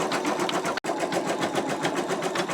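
An embroidery sewing machine stitches out a flower design, a close, steady rapid rhythmic whir of needle strokes, broken once by a split-second gap.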